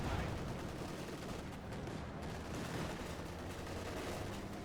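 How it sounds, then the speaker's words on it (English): Machine gun fire in the Company of Heroes 2 strategy game, with Soviet Guards Airborne squads carrying DP light machine guns against a Panzer IV. Dense, continuous battlefield gunfire holds steady throughout, loud and unbroken. "Hoping to get a wipe there with the machine guns and the main gun."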